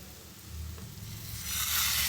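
Vegetables for veg noodles being stirred and tossed in a hot pan as chilli sauce and tomato sauce are mixed in, a steady sizzle building louder toward the end with soft scraping, no voices.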